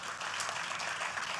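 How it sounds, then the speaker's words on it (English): An audience applauds a presenter at a Day of the Seafarers event, steady dense clapping that fills the whole moment without a break. "a big round of applause for Captain Anish"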